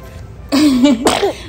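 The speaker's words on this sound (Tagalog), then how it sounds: "O yun, umubo." A single short cough followed by a second harsh burst, close and loud, with a voiced, slightly squeaky quality.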